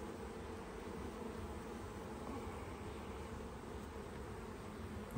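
Honeybees from a newly installed package hum in a dense, steady buzz that stays close and continuous throughout during the colony's first hive inspection, with no voices.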